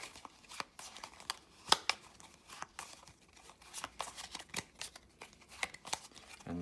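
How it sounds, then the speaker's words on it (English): Playing cards being shuffled close by, a run of crisp riffling flutters and soft snaps over several seconds with small pauses, no talking. "time to shuffle my cards"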